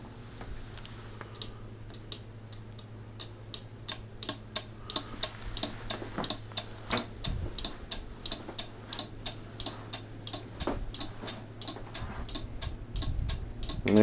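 A homemade railroad crossing light flasher clicks in a steady, regular ticking rhythm, quiet and close, over a low hum.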